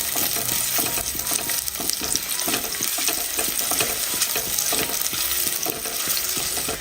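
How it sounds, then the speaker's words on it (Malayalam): About ten finely chopped shallots fry in coconut oil over a medium flame for a mackerel dish, giving a loud, continuous close-up sizzle with frequent stirring clatter and no voices. "10 ചെറിയ ഉള്ളി ചെറുതായിട്ട് കട്ട് ചെയ്ത് ചേർത്ത് കൊടുക്കാം. ഉള്ളി ഒന്ന് മൂപ്പിച്ചെടുക്കാം."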